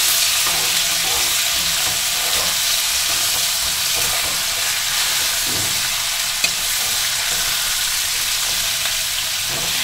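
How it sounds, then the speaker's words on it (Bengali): Spices with ginger paste fry in a pan for a broccoli dish, giving a loud, continuous sizzle with steady hissing and occasional stirring scrapes, close up and uninterrupted by speech. "এবার মা ভালো করে মশলাগুলোকে কষিয়ে নিচ্ছে"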